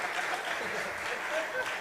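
An audience at a live university jazz ensemble concert in Montenegro claps in steady applause, a broad, even patter filling the room, with a voice speaking faintly underneath.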